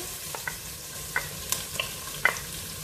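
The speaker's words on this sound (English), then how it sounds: "I've just got some oil in here, which we're now going to brown some onions." Finely diced onion browning in hot oil in a pan for spaghetti bolognese, giving a steady close sizzle with a few light scrapes and taps of stirring, no voices.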